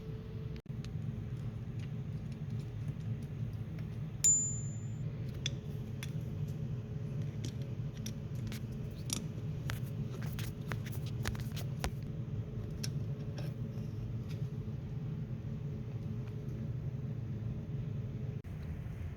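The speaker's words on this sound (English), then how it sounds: "So this is removing the old petcock again" An old fuel petcock is worked loose from a Kawasaki Prairie 360 quad, with scattered faint metallic clicks and taps from the tool over a low steady rumble, and one sharper clink early on.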